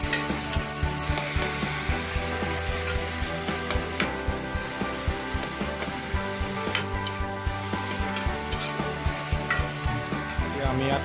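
Tomato, chopped and added to hot oil in a pan while cooking an egg curry, sizzles and fries steadily under repeated stirring, with soft scraping strokes and a continuous loud crackle throughout.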